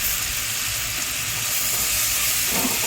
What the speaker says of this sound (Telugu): పుదీనా కూడా వేగాలి. ఒక గుప్పెడు అయితే కొత్తిమీర వేస్తున్నాను.